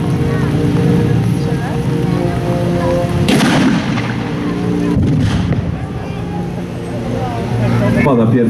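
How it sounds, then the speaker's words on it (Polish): An 85 mm ZIS-S-53 gun on a T-34-85 tank fires in a wartime battle reenactment. Heavy booms punch through a loud, rumbling scene while someone narrates over it. "Pierwszy strzał z armaty ZIS-S3, armaty kalibru 85 mm, jednej z najskuteczniejszych armat czołgowych czasów II wojny światowej."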